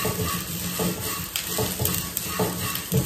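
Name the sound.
frying sprouts without oil in a pan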